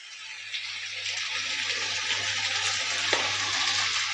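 Chicken with chili paste fries in a pan with a steady, moderately loud sizzle and crackle that continues evenly with no talking.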